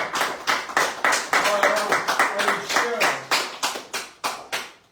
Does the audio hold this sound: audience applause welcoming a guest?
yes